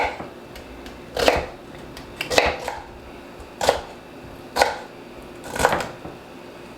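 A knife chops celery for a turkey stew: five crisp, evenly spaced knocks on a cutting board, close and distinct, with quiet pauses between each cut.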